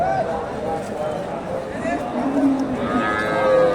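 A cow moos loudly at a village cattle market in Dakumara, Bogura, with people talking nearby over the busy background.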